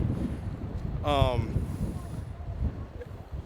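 Steady, roaring wind buffets the microphone outdoors in Japan throughout, with a brief voice passing midway.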